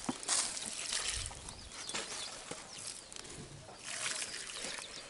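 Water is poured over a rescued snake, a faint intermittent trickle and splash at low level, with soft background noise and no talk.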